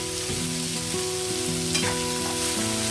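Onions fry in a pan for a banana flower stir-fry, giving a steady soft sizzle under continuous tonal background music, with no talking.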